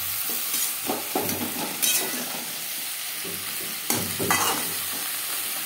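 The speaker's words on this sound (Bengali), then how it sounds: "মশলার সাথে ফুলকপি বেশ ভালো করে মিক্স করে দেব।" Cauliflower and spices are stirred in a frying pan over a soft, continuous sizzle, with a spoon scraping in irregular strokes and a few sharper clinks.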